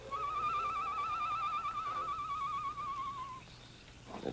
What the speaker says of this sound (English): he heard the low call of a night bird outside the barred window